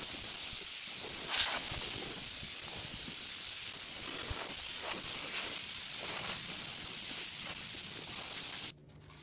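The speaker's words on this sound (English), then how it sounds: "We're gonna blow up all the loose dirt with the compressor and see if that helps a little bit." Air compressor nozzle blasting loose dirt from the engine bay of a 1992 Mitsubishi 3000GT VR4, a steady loud hiss of compressed air lasting several seconds before cutting off abruptly near the end.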